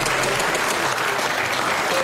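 An audience applauds belly dancers at a show, a dense, even burst of clapping from many hands throughout.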